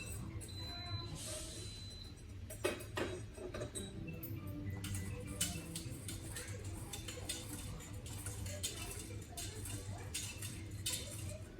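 A spoon stirring milk in an Instant Pot on sauté while heating it for Greek yogurt, with repeated light clinks and scrapes against the metal pot, fairly soft and close, with no talk.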